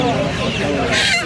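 Silkie chickens at the Uluberia hen market give short clucks and calls amid the crowded bustle, under a voice.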